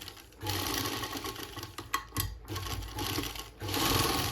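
A domestic sewing machine stitches lace onto a thin dupatta, its rapid steady needle whir running in continuous bursts with brief pauses between them.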